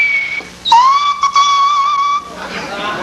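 A tongue-piping whistle made by drawing air inward: one loud, close, sustained pitched tone that holds steady for about a second and a half, then breaks off into breathy hiss.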